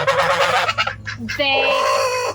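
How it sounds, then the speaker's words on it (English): Loud, close honking from several geese, overlapping calls with a harsh, nasal tone throughout. "these geese are so friendly."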